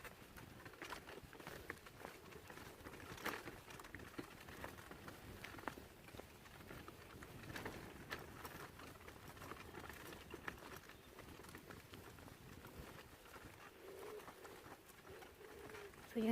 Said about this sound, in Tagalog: may mga ibon. Nag-aaway ata sila.